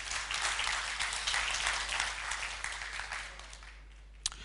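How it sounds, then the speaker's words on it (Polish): An audience at a talk applauds in a dense, steady wash of clapping that gradually thins and fades toward the end, with one sharp clap near the close. "Brawa dla osoby odważnej."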